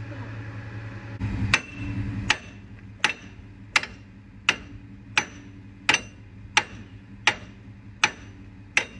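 A hammer strikes a screwdriver about a dozen times in an even rhythm while changing a wheel bearing on a Dodge Durango, each hit a sharp metallic clink close by with a brief ring.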